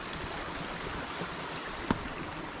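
Steady broadband rush of creek water flowing nearby on a forest hike trail at Ravens Cliff Falls, continuous and even, with one brief sharp tap near the end.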